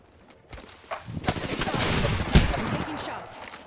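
Rapid bursts of video game gunfire in a multiplayer shooter, a cluster of sharp shots and rattling fire building up over a few seconds amid game noise, with brief voice chatter.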